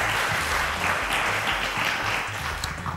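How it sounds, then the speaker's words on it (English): A studio audience at a televised Nigerian quiz show applauds a senior-category student contestant in a steady, dense wash of clapping, with a low hum running underneath. "A round of applause for Olamide."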